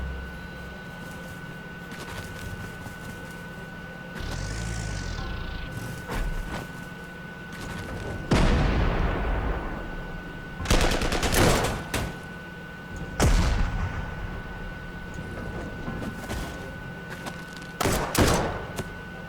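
Heavy bomber attack in the wargame Panzer Corps 2, playing as a run of loud explosive bursts and rumbling impacts at irregular intervals over a steady background hum.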